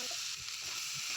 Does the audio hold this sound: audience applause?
no